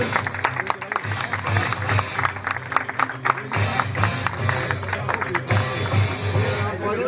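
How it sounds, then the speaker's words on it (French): Crowd applause and cheering for a second-place cyclist stepping onto the podium at a Laval road race, steady clapping over dense crowd hubbub with a PA voice and babble throughout. "Les applaudissements pour Andrea Mifsu, 2e."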